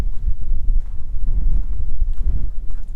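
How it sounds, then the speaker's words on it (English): Outdoor wind buffeting a camera microphone fitted with a filter beside an abandoned luxury Barth motor home, a loud, continuous low rumble that pulses and gusts throughout, with no other clear sounds. "We're pointing straight into the wind again."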